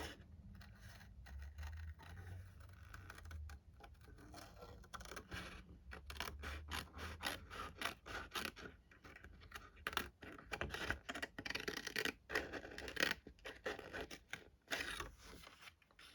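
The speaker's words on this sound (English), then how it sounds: "just going to fussy cut this out" Scissors snip around a stamped paper image in a crafting session, a quiet, close run of small irregular cuts and paper rustles with short pauses between them.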